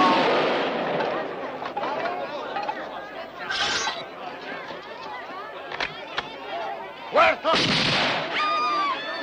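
Gunfire in a Western action film about Zorro, heard as several sharp broadband shots and bursts cutting through a dense battle mix with shouting crowd chatter and voices throughout.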